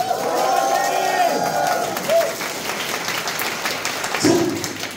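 Crowd clapping and cheering during a Korean team game show, a dense wash of applause with shouted voices on top; a host's voice rises above the crowd near the start and again toward the end.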